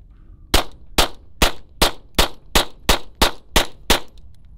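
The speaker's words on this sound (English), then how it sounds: "these are going to be the first rounds through the new OZ9C-X from ZEV Technologies" Ten sharp pistol shots from a ZEV Technologies OZ9C-X, fired at an even, brisk pace, each a loud close crack with a short ringing tail, with no voices.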